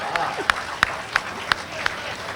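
At a BJP political rally, rhythmic unison clapping rings out in about five sharp, evenly spaced beats over a background of crowd murmur and voices.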